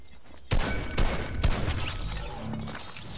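Gunfire in a video game cracks out in several sharp bursts, a rapid volley of close, loud shots followed by rattling echoes and debris.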